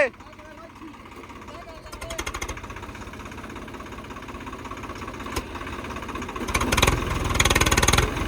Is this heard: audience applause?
no